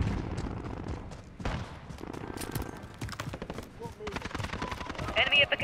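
Bursts of rapid automatic gunfire from a Bruen rifle in Call of Duty: Modern Warfare, some near and some farther off, crackle almost nonstop, with game voice chatter mixed in.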